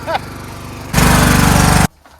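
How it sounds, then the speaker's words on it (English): A Craftsman lawn tractor mower engine runs loud and close, a steady broadband drone with a rhythmic low chug that swells up after a brief voice, then cuts off abruptly. "A mower."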